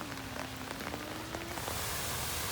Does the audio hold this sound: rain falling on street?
yes